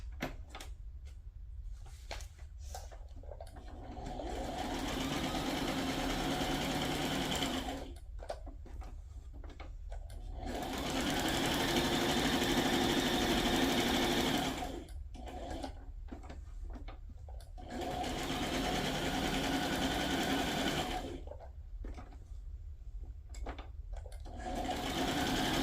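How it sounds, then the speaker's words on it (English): A sewing machine stitches through handmade paper journal tags, running in three long steady bursts separated by short pauses, close and loud with no voices. "I am now just going to sew and then maybe do a zigzag here"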